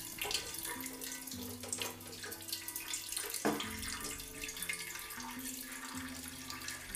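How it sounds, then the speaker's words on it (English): Whey pours and splashes steadily as it drains from cheddar cheese curds, like water running into a sink, with a faint low hum underneath. "you can probably hear all of the um, the whey draining out"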